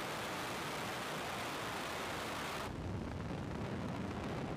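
A SpaceX Falcon 9 rocket lifts off from Slick 4E at Vandenberg Space Force Base in California, a broad, sustained roar of heavy noise, distant but filling the scene, thinning slightly partway through.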